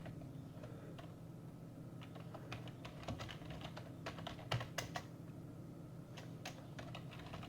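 Password being typed on a computer keyboard during a Ubuntu install, a run of quick, irregular key clicks over a steady low room hum, closer and sharper around the middle, with no talking.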